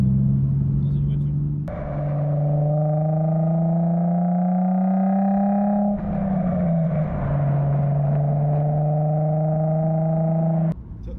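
Engine and exhaust of a car underway make a steady, droning hum that climbs slowly in pitch, then drops with each gear change and builds again.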